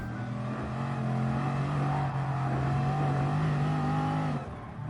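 A race car engine in Gran Turismo Sport holds a steady, droning tone for several seconds with a slight pitch rise, then cuts off sharply near the end; no talking.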